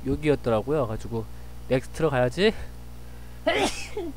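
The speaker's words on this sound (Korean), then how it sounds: "제가 재채기를 했습니다." A single sharp sneeze bursts out near the end, following someone speaking Korean while coding at a computer, loud and close.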